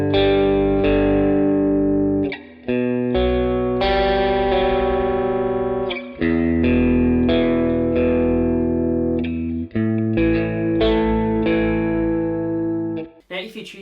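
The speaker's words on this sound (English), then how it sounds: "So guitar part will sound like this." Electric guitar run through effects and distortion plays a chord pattern, loud sustained strummed chords with brief gaps between changes, alone without talk.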